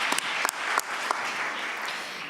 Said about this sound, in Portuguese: Uma salva de palmas agora.